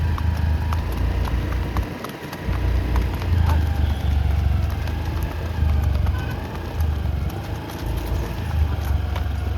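A mare being ridden clip-clops with a steady run of hoofbeats over a low, rumbling background hum, briefly dipping before resuming, fairly close and busy.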